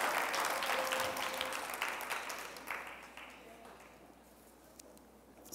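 A church congregation applauds during a sermon, a dense wash of clapping that starts loud and gradually fades out over a few seconds, with faint voices mixed in.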